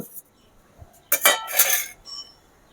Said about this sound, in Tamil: எல்லாம் கொட்டிக்கிட்டு மறுபடியும் நல்லா அதை அப்படியே கிளறி விட்டுக்கணும்